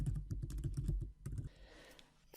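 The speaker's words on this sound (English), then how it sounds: "just click here on the white space and simply start typing" Keystrokes on a computer keyboard while typing into a blank Word 2016 document, a quick irregular run of close clicks that thins out after the first second and a half.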